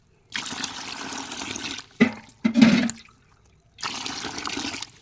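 Water poured into a bucket holding live taki fish, arriving in three bursts of rushing, splashing flow separated by short pauses, close and fairly loud with no talking.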